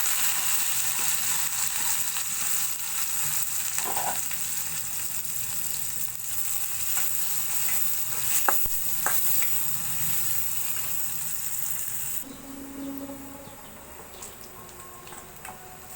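Chopped onion and garlic frying in hot oil with dried chillies for a dal with jute leaves: a steady, close sizzle with occasional stirring clicks, quieting noticeably near the end.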